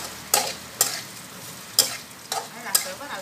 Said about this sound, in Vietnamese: Nhưng mình chiên mình để lửa lớn á.